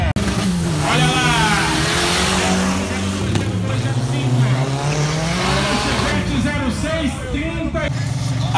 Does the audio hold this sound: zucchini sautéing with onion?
no